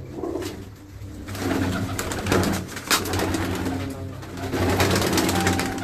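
Salara pigeons coo in a steady, overlapping murmur of low throaty calls that keeps going across the whole stretch, fairly close and moderately loud, with no talking.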